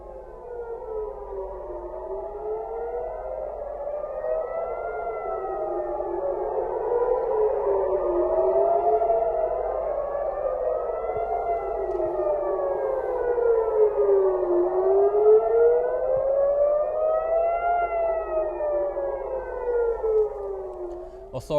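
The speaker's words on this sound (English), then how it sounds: "The missile triggered sirens across several areas in central Israel." Air raid sirens sound across central Israel after a missile launch, several rising and falling wails overlapping in slow sweeps, loud and sustained without pause.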